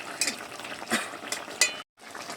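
Fish curry with lentil dumplings (bori) being stirred in a pan, with scraping utensil strokes over a low simmering sizzle, a few distinct stirs before a brief silence and then a return to the quiet bubbling.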